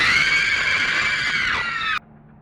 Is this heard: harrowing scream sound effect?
yes